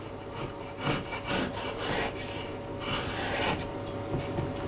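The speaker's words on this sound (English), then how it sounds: "So, got a plank of pine, move the spanking paddle, move the rasp." A rasp files across the flat face of a pine plank in repeated rough strokes, a close, scratchy rasping rhythm, with no talking.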